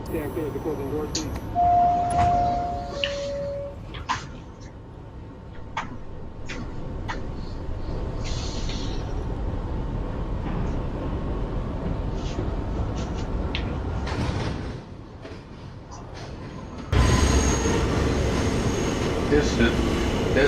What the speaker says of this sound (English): This is a Brooklyn-bound 5 train via the 2 line.